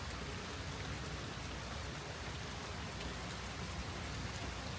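Steady rain pours down outdoors in a garden during a hail storm, a dense, even hiss of drops on surfaces that holds at constant loudness with no voices.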